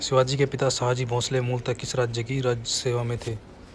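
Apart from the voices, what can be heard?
No everyday noise stands out behind the speech.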